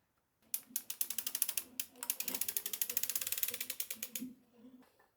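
A circular sock knitting machine cranked to knit a test piece with a small length of yarn gives a fast, even run of mechanical clicks and ratcheting, close and steady for about four seconds, then stops.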